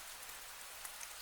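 Steady rain falling, a soft even hiss of drops on a surface with no other sounds over it.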